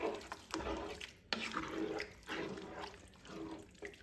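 Liquid is poured into a pot of Brunswick stew, a splashing, gurgling pour in uneven bursts with short pauses, close and fairly quiet, with no talking.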